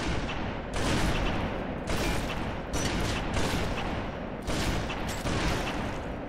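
Dense bursts of gunfire from a Halo multiplayer match video game, with loud overlapping volleys that repeat in waves, each lasting about a second, and no voices.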